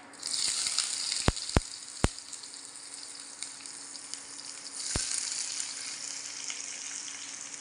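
Onions sizzle in hot oil with cumin in a pan, a steady close frying hiss with a few sharp clicks and knocks early on and a swell of sizzling midway; no talk.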